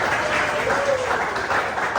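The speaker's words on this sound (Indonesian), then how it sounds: "Kasih tepuk tangan dong buat teman-teman." Classroom of students applauding their classmates, a dense continuous patter of many hands clapping at moderate volume, with faint voices underneath.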